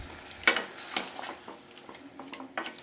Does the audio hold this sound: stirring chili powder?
yes